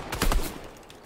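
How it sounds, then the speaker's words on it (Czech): Gunfire in Fortnite: a short burst of several rapid shots, loud and close, sounding like an automatic weapon, then a fading tail with no talk. "tak proč střílí po mě"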